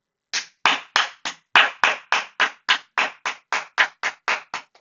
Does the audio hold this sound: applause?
yes